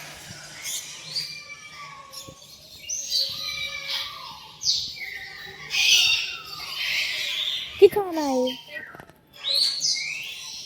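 Many birds chirping and calling inside an aviary enclosure, with varied whistles and sweeping calls overlapping at close range, while people talk briefly nearby.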